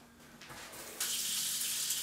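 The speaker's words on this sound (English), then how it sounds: "it's going to be just regular old cold water out of the faucet. So I'm keeping this running." Cold water running from a household faucet, a soft trickle that suddenly swells into a loud, steady close-up gush.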